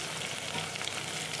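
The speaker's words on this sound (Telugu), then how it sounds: "ఇలా వంకాయ ముక్కలు కొంచెం వేగిన తర్వాత" Eggplant (brinjal) pieces fry in a pan with a steady, continuous sizzle that stays even and close throughout, with no voices.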